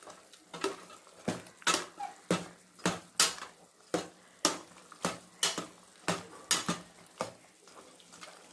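Pepper chicken stirred in a metal pot with a ladle, a steady series of about fifteen sharp scraping clinks at a regular rhythm, close and distinct, with soft cooking noise between strokes.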